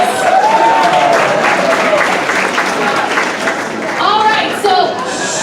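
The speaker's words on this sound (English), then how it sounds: "give him a big round of applause" Audience applause at a progressive awards evening in Nevada, a steady burst of clapping lasting several seconds with a voice talking over it.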